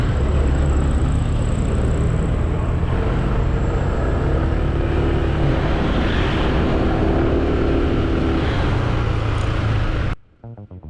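Honda PCX 160 CBS scooter on the move, a steady broadband engine and road rumble with wind roar lasting about ten seconds before cutting off abruptly near the end.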